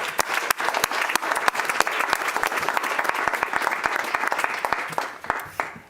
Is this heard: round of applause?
yes